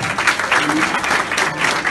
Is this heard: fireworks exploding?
no